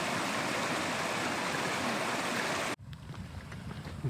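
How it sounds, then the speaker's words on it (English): Dead Beck, a Lake District stream in spate, rushes loudly under a footbridge as a broad steady roar of water, then abruptly drops to a quieter, nearer trickle and splash after about three seconds. "We're just now crossing the interestingly named Dead Beck. Certainly not dead at the moment, showing plenty of life."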